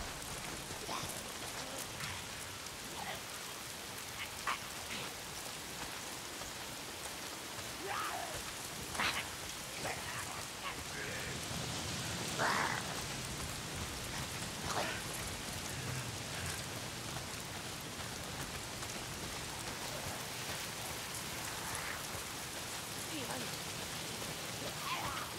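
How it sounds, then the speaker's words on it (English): Steady rain patters down in the video game Days Gone in a continuous hiss, with brief louder splashes and drips scattered through it, close and unbroken from start to finish. "Damn rain."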